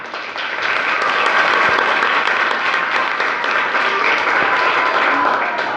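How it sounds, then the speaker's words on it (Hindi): A crowd claps and applauds continuously, dense and steady throughout, with no voices standing out. "तालियां।"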